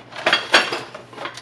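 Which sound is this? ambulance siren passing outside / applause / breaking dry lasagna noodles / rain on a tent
breaking dry lasagna noodles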